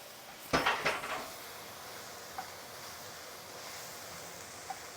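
A spoon clatters against a pot while meat sauce for spaghetti bolognese is mixed: a short burst of metallic scraping and knocks, then near quiet with two faint isolated clinks.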